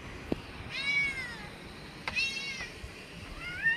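Hungry house cats meow several times while waiting for their food, with drawn-out rising calls spaced apart, fairly close, and a small knock heard early on.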